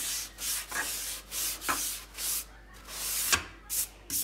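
A small brush scrubs the edge of an induction hob, producing a series of short, close, rhythmic bristle rubbing strokes, about ten quick scrapes with brief pauses between them.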